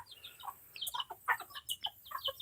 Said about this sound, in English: I've got one of these hens, one of these BB Red hens is broody